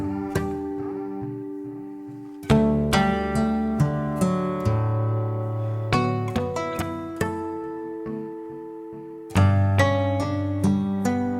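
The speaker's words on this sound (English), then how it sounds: "And then we have all the plucked instruments when they're all going." A set of Komplete 14 plucked instruments plays together in a layered pattern of bright, sharp note attacks that decay quickly over a steady low bass. Fresh bursts of plucks arrive every few seconds, with no voices.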